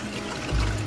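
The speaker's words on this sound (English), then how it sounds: "I'm adding some of the coconut milk right now" Coconut milk poured into a simmering pork curry, a short soft liquid splash rising over the quiet bubbling of the pot.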